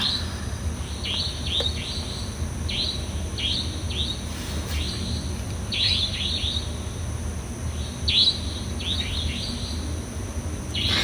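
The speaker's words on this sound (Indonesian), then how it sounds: "Jadi banyak burung-burung di situ." Several birds chirp and tweet in short repeated bursts outdoors, moderately close, over a steady background hum of wind and distant ambience.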